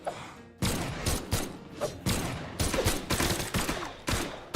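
Rapid gunfire from the guns weapon in the Brawlhalla fighting game, a string of sharp, loud bursts in an uneven rhythm through a competitive match.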